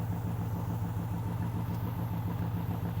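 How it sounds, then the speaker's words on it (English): A BMW K100 cafe racer motorcycle engine idles steadily on its own, a low, even rumble with a light mechanical clatter running unbroken throughout. "It's finally idling on its own now."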